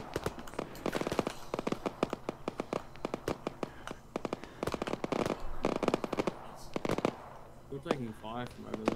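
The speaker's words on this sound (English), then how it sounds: "We're taking fire from over there." Rapid, irregular bursts of gunfire crack in dense clusters, some near and sharp, others scattered, with a voice speaking briefly near the end.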